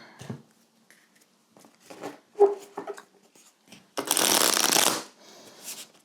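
Tarot cards are handled in scattered soft taps and slides, then one loud riffle shuffle bursts near the end, followed by a brief shorter flutter.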